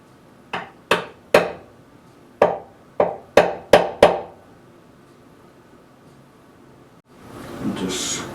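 Scoring a mortise outline in a mahogany table part: eight sharp, close taps in an uneven rhythm, each ringing off briefly, then a pause and a short stretch of softer rustling noise.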